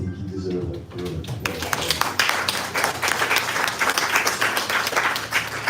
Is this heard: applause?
yes